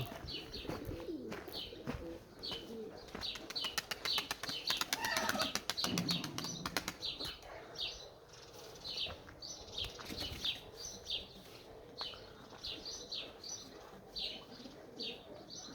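A flurry of wings flaps loudly as eight pigeons are released together, followed by repeated rhythmic wingbeats and soft cooing nearby.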